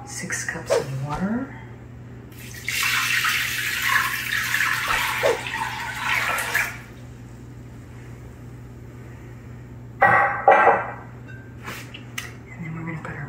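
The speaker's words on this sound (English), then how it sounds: "and then I'm gonna put 6 cups of water." Six cups of water poured into a slow cooker with dried peas, a steady hissing splash for several seconds followed by a shorter second pour, up close with kitchen background hum.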